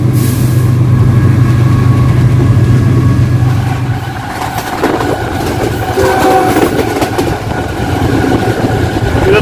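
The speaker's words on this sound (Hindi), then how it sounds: "यहां से इंजन का साउंड भी बहुत ज़बरदस्त होता है।" Loud, steady diesel roar of a GEU-40 locomotive hauling the Tezgam Express between Chichawatni and Lahore, heard close from the train, with a low engine drone, rail rumble and clatter continuing throughout and no speech.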